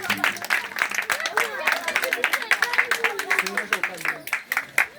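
An audience claps to welcome a teacher, Vumi Sefu, entering a church Bible class on the New Testament books. A steady spatter of hand claps runs for about five seconds, close and fairly loud, with voices mixed in.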